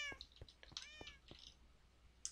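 Minecraft ocelot or cat meowing in a video game: a quick series of several short, clear meows in close succession, fairly faint and heard alone.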